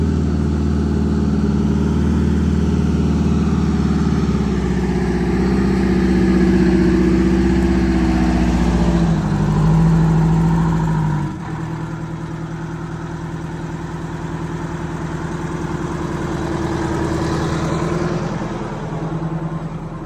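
A bus engine low on turbo boost is floored, a loud, deep, strained drone that holds steady and slowly climbs without picking up speed, then drops abruptly to a lower rumbling tone.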